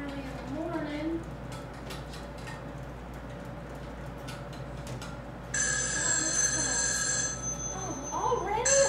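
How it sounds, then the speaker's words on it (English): A telephone bell rings in a bright, steady burst for about two seconds in the second half, cutting across quiet morning speech and soft room noise before talk resumes. "already a phone call?"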